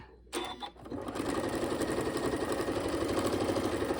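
Sewing machine stitching a quarter-inch seam on quilt pieces: a short start-up, then a steady close mechanical whir with a rapid rhythmic needle beat that runs on evenly.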